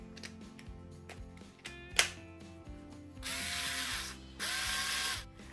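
A Parkside 4V cordless screwdriver fitted with a cutting adapter for soft materials like paper, cardboard and leather whirs in short bursts, then runs in two longer sustained stretches, close and fairly quiet, with no talking.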